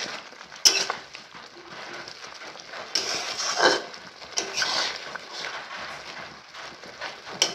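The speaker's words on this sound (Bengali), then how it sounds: "এবার এর মধ্যে অ্যাড করে দেব আলু পটল যেটা কষিয়ে রেখেছিলাম সেটা এখানে অ্যাড করে দিচ্ছি। ভালো করে মিশিয়ে নেব।" Potatoes and pointed gourd being stirred into boiling gravy in a pot for a vegetarian Bengali dish, with soft scraping and clinking of a spoon against metal and a gentle bubbling bed beneath, fairly quiet and close.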